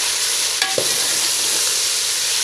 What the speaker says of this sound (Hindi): अब टमाटर को गलने तक हम इसे और फ्राई करेंगे।